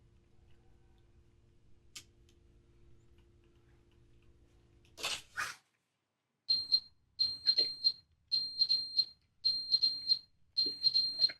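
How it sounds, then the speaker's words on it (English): Fire alarm in The Stanley Parable video game, a quiet hum and two sharp clicks before a loud high beep sounds repeatedly in evenly spaced bursts, each about half a second, with short silences between. "Take the fire alarm."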